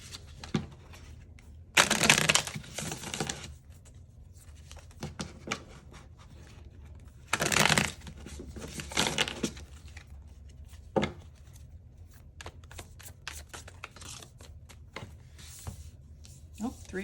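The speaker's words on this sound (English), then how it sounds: "Get some tarot cards out for you." Tarot cards being shuffled by hand, with several rustling, riffling bursts up close among softer handling sounds and quiet stretches.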